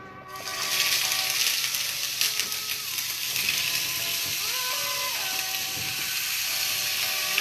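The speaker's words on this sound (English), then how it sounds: "So I have my oil in my pan. I'm gonna lay it skin side down." Purple potatoes sizzle skin side down in hot oil in a pan, a steady broadband frying hiss with some clicking and scraping through most of the stretch, no talking.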